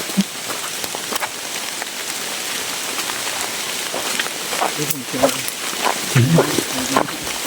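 Heavy rain pours down steadily as a dense, loud wash across the whole stretch, with some indistinct voices and rustling movement underneath near the end.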